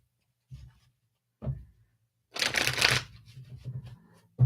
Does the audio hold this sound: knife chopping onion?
no